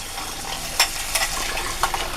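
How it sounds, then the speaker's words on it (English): Hot tap water runs over dishes in a kitchen sink, a steady hiss of flowing water broken by a few brief splashes and clinks, close and fairly loud, with no one speaking. "She said always rinse stuff with hot water first."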